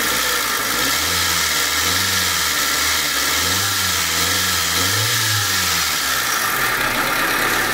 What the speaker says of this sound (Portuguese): Esse motor, ele tem uma vibração.